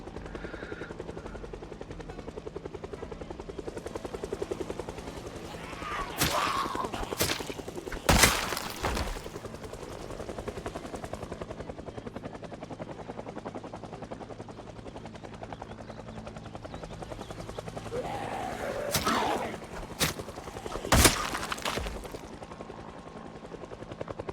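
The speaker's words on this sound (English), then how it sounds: "This guy doesn't really care about the helicopter cruising just above him." A helicopter cruises low overhead in the video game Project Zomboid, a steady rotor drone running under the whole scene, broken by several sharp, loud bangs or gunshots in two bursts.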